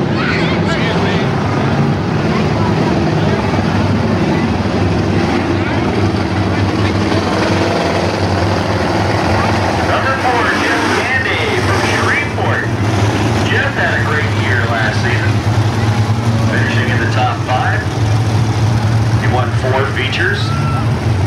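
Street stock race cars roar around the dirt oval at Boothill Speedway, a dense continuous engine drone with a public-address announcer talking over it throughout.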